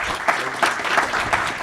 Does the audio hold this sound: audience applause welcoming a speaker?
yes